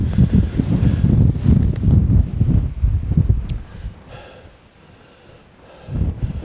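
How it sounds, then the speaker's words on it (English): Strong gusty wind on a hiking trail buffets the microphone in loud low rumbling roars that ease off briefly in the second half before picking up again. "it's a really strong wind"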